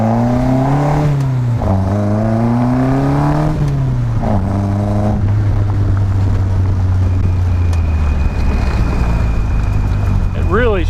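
A Locost 7 kit car with a freshly rebuilt T5 transmission on a test drive, its engine loud and close as revs climb and drop through several gear shifts, with heavy wind rush over the microphone throughout.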